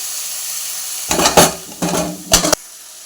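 Tomatoes with a little salt hit a hot pan, giving three loud bursts of sizzling and stirring against a quiet background, with no talking.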